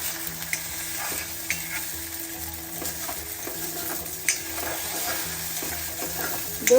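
Eggs fry and are stirred in an oiled pan, producing a continuous close sizzle with scattered scraping strokes and a light utensil clack, with no one speaking.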